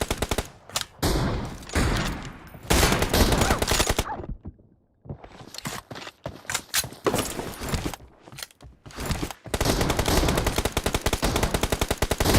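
Video game shootout gunfire: rapid automatic bursts and single shots crackle in dense volleys, broken by short silent gaps, then resume in long sustained strings of fire.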